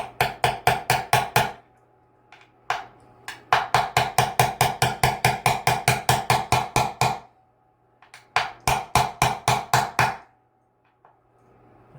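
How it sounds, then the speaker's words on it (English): A brass hammer taps guitar kit parts flush on a JEM-style DIY guitar build, in three bursts of rapid, evenly spaced sharp metallic knocks separated by short pauses, close and loud with no talking. "brass hammer."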